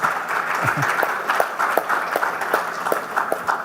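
An audience applauds a woman called up on stage at the Tally MSME Honours 2022 event, with steady, fairly close clapping and a few sharper individual claps standing out over the room.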